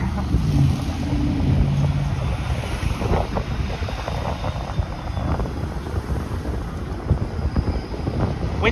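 Strong wind buffeting a microphone on a city street at Yonge and St. Clair in Toronto, loud continuous rumbling gusts with passing traffic noise and a voice briefly heard underneath.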